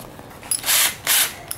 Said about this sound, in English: So what we're gonna do is put our pilot holes in there.